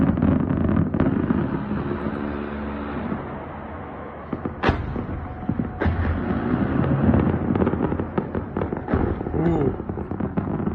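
A C-RAM 20 mm close-in weapon system fires in loud, sharp bursts over an ongoing rumble, with a strong blast near the middle and further reports scattered through, while people talk in the background.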